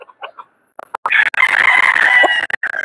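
Young Blueface gamefowl chickens cluck softly a few times, then a loud close rooster crow rings out, followed by a brief second call.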